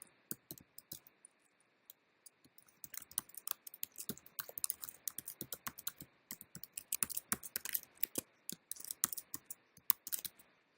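A password is typed on a computer keyboard, a close, quiet run of crisp key clicks in an irregular rhythm that starts sparse and grows into steady rapid typing with no talking.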